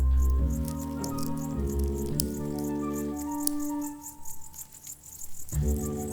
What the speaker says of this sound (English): The clicking sound made by the male is aimed at the females.